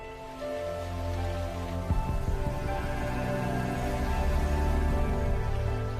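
Steady rain falls across the savanna, a dense, continuous patter that builds slightly over the stretch with a low, broad rumble underneath and no voices.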